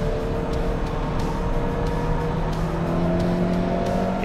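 Peugeot 206 GTI race car at high speed on a circuit straight, heard from inside the cabin as a loud, steady engine drone with sustained tonal whine, holding constant throughout without any talk.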